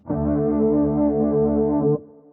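Guitar chord through a Quad Cortex rotary speaker effect dialed toward the low-end woofer, a dark, muffled, distorted tone with rounded treble, held steadily for about two seconds before stopping into a brief decay.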